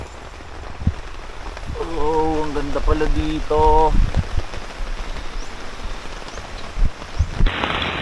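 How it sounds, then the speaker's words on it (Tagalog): Rain patters steadily outside at a muddy campsite during a storm, a continuous hiss with some louder drops, while a person speaks briefly over it. "Umuulan-ulan pa."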